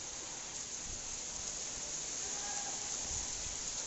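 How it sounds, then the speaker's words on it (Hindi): Heavy rainy-season rain makes a steady, even hiss that stays fairly faint and continuous throughout, with no voices. "बाकी तो बहुत तेज़ बारिश हो रहा है।"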